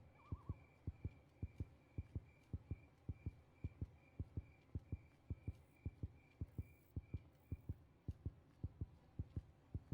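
A steady, regular thumping heartbeat in the horror game Granny 3, with deep low pulses repeating about twice a second under a faint hum, no talking.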